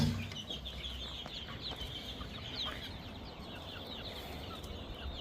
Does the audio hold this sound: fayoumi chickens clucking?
yes